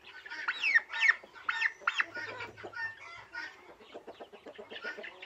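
A cluster of turkeys gobbling and clucking in quick bursts, moderately close, with softer chattering calls continuing underneath.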